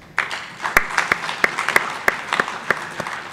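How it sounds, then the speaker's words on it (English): An audience at a high-level dialogue event in Kampala, Uganda claps. Sharp, loud individual claps ring out over a thinner bed of scattered applause, strongest at first and gradually thinning. "I think they deserve a round of applause"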